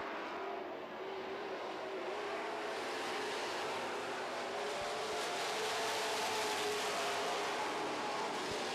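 Super stock race cars roar around an oval racetrack in a feature race, a steady dense engine drone from a distance that swells slightly without pause.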